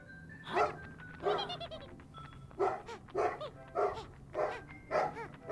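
Repeated barking from a dog outside, about seven or eight rough, bleating-toned yelps in an irregular rhythm, fairly clear and mid-distance with no talk.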